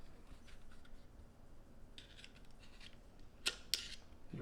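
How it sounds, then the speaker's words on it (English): Faint metallic clicks and two sharp snaps come from a pin being pressed into a Glock pistol during quiet close-up work. "Now all I got to do is install this pin right back there."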